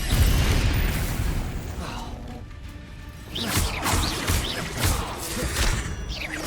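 Spell blasts from the wizarding action game Hogwarts Legacy, fiery Confringo explosions with a loud booming burst at the start, then a lull and further bursts and crackles over rumbling combat noise.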